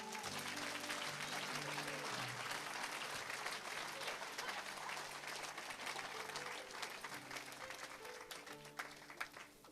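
A church congregation applauds to acclaim Jesus, dense and sustained clapping from a full room that holds steady for several seconds, with a few voices faintly mixed in.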